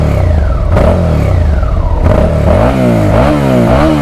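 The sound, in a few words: Suzuki SV650 motorcycle engine revving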